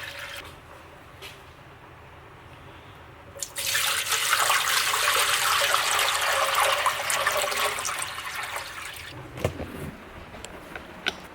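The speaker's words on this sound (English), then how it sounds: "I filled a bucket full of water and we're gonna fill both of the oil pans up all the way to the top." Water from a bucket poured into a stock Toyota 2JZ engine oil pan, a sudden loud rushing splash after a quiet start, running steadily for several seconds and then tapering into drips.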